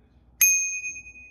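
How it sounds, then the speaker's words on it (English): A single bright ring from a small, oddly shaped bicycle bell supplied with a boxed Polygon Siskiu T7 mountain bike, struck once and left to decay slowly in a quiet room. "Yeah, they give you a little bell."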